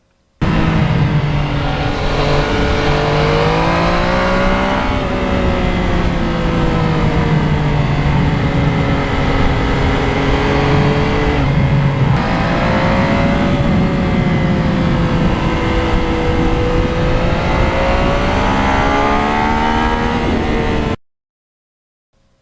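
A 2020 Yamaha MT-09 motorcycle with about 10,000 miles and a quiet muffler rumbles steadily while riding, its engine and exhaust droning loud and close with smooth rises and falls in pitch and no talking.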